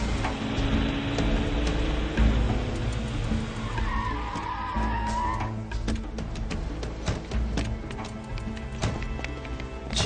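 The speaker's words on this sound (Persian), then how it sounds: "ماشین را نگاه داره" A car brakes hard to a stop with its tires skidding on the road, a rough sustained scrape with a brief squeal over engine rumble.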